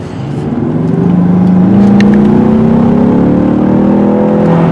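A 2018 Ford Mustang EcoBoost engine revs loudly and up close, its drone climbing steadily in pitch as it winds up and then holds high.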